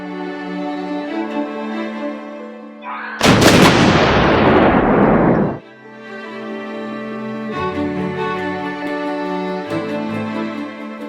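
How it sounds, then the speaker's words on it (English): A single loud noon cannon boom with a roaring, rumbling tail, fired outside a restaurant in New Zealand, set against sustained tonal music playing before and after. "A cannon is fired daily at noon in front of the Marina restaurant,"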